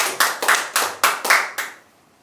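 A small church audience claps in thanks at a New Year lecture, giving about six crisp, evenly spaced bursts of clapping that fade out into quiet.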